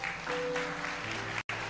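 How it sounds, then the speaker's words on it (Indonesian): Church congregation applauding the greeters during a sermon service, steady broadband clapping filling the space, with a faint voice underneath and a brief dropout near the end. "berikan tepuk tangan buat mereka."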